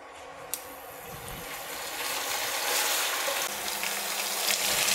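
Homemade onion hair oil cooks in a pan over a low flame, giving a steady soft sizzle and bubbling hiss that swells slightly and stays even throughout, with no talking.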